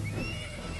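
A horse from the Disney Infinity 2.0 video game lets out a short, loud whinny, a single brief neigh with faint hoof clatter beneath.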